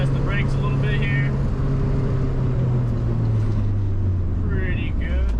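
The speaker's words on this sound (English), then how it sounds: "Going about 55, I'm going to test the brakes a little bit here." Interior road noise from a K-swapped Honda CRX cruising at about 55 mph as its brakes are tested, a steady low engine drone that slowly drops in pitch, with wind and road rumble and someone talking over it.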